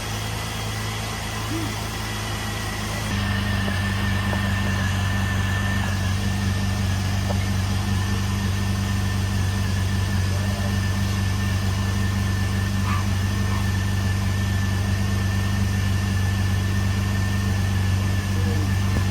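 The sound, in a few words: Jeep engine idling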